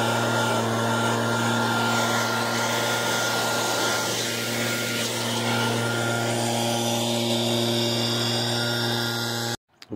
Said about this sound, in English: I like to do that with a leaf blower